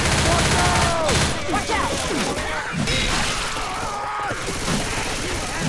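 Dense gunfire and crashing impacts from the zombie shooter game Left 4 Dead 2, loud and continuous throughout, mixed with game noise and voices.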